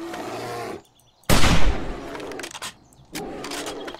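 Gunfire in the video game 7 Days to Die during a fight with a bear: a loud, sharp blast cuts in after a brief silence and decays over about a second, framed by dense game noise and scattered impacts, with no talking.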